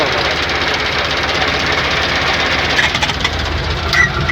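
A T-25 tractor engine chugs steadily under a dense, clattering metallic racket of rattling metal sheets on a rotary mower while mowing hay, loud and close, with no pauses throughout.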